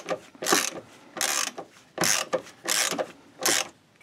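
A ratchet loosens 13mm nuts on a sway bar bushing bracket under a Mercedes-Benz W126 S-Class, giving five close, rapid clicking bursts separated by short pauses.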